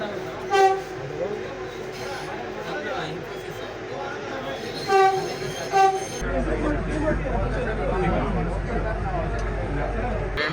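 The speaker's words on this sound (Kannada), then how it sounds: "metro train in ಹೆಪ್ಪಗುಡಿ metro train" A Bangalore metro train passes near Hebbagodi with a steady rumble, and its horn sounds several times in short bursts. Excited voices talk over the loud, continuous rolling noise.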